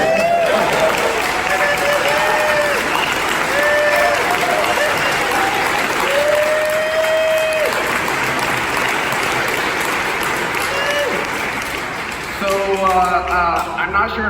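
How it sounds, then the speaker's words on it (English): Sustained applause from a large audience at an event featuring Edward Snowden on Bitcoin and privacy, loud and dense throughout with crowd noise and some voices mixed in. "can we give a huge round of applause for a freedom fighter?"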